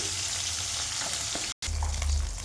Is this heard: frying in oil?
yes